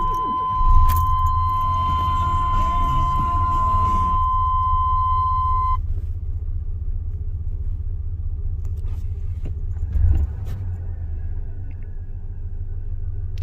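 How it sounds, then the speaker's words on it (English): A Chevy S10 minitruck engine turns over and settles into a steady, rough idle, a low continuous rumble close by, with a brief high whine fading in the first seconds and a couple of small bumps. "let's start this thing up and you guys can hear it run"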